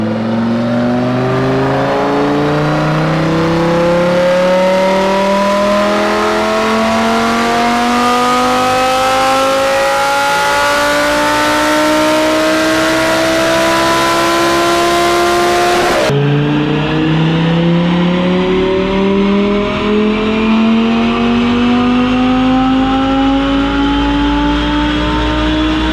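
An Audi 5.2 liter V10 on a stage 1 tune makes a full-throttle pull on a DynoJet dyno, a loud, sustained howl climbing steadily in pitch through the gears, a sharp shift dropping it before it climbs again, no voices.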